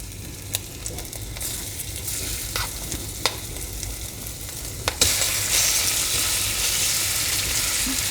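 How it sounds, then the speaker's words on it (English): Food sizzles in hot oil with a few clicks and stirring scrapes, then the frying swells into a loud, steady crackle after something is added. "I'm gonna go ahead and start tossing my chicken in here."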